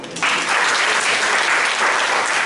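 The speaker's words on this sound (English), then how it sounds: "So you can give another clap for me." An audience at a university closing-session program breaks into dense, loud applause that starts abruptly and holds steady as a continuous wash of many hands clapping.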